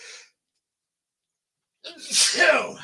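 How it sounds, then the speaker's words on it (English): A news reader sneezes once, a loud, close, breathy burst following a brief voice fragment and a moment of silence. "I just sneezed"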